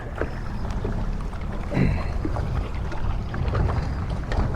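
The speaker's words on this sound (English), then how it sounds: "the wind is blowing so hard" Strong gusty wind buffeting a fishing boat on open water, a constant rushing roar with low rumble and occasional louder surges across the recording.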